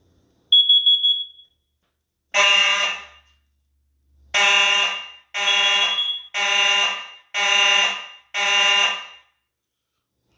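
A Simplex electro-mechanical fire alarm horn blares in loud, harsh buzzing bursts during a system walk test, sounding five or six times in a regular on-off pattern after a short high tone at the start.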